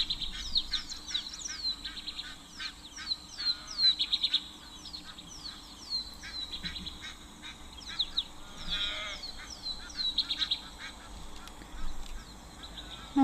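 Egyptian geese honk and call repeatedly at an African waterhole amid a busy chorus of other birds, the calls moderately close and overlapping in irregular bursts with no talking.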